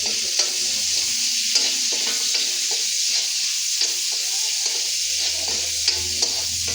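Onions fry in a pan while a spoon stirs them, giving a continuous close sizzle with light, irregular scraping knocks throughout and no voices.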